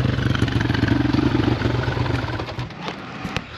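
A Yamaha LC135 motorcycle with a free-flowing aftermarket exhaust idles close by with a steady, lumpy low rumble that gradually fades and quiets toward the end.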